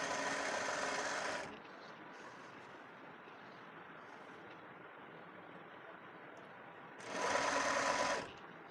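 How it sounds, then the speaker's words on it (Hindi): An electric sewing machine runs a fast, steady stitching whir in two short bursts, at the start and near the end, while sewing a shirt's button placket; a quiet room hum fills the gap between. "यहाँ बिल्कुल किनारे के ऊपर सिलाई लगा लेंगे"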